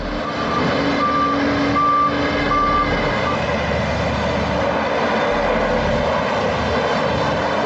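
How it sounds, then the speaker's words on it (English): Mack RT14R dump truck with rotating cab and bucket working, a loud continuous heavy engine drone with repeated reversing beeps near the start. "The Mack RT14R dump truck's cab and bucket rotate 360."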